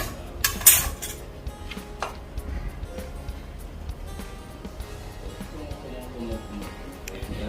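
A metal spoon clinks and scrapes against a steamer plate while loosening freshly steamed rice idli, with a sharp clatter early on and softer scraping after, as someone talks throughout.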